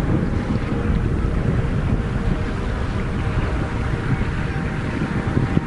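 First-stage engines and the port and starboard boosters of a NASA Orion launch rocket make a loud, steady broadband roar that holds unbroken throughout, with no voices over it.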